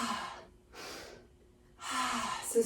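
Deep breaths during a yoga session outdoors in a forest: three long, airy rushes of breath, close and fairly soft, with short pauses between them and no talking.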